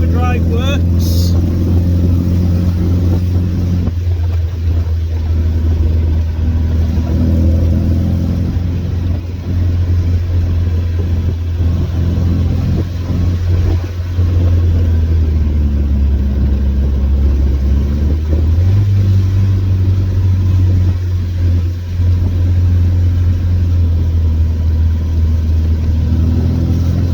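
A Triumph Spitfire cruises in overdrive, its engine a steady low drone that shifts pitch slightly partway through as road and wind noise fill in around it, loud and close from inside the cabin.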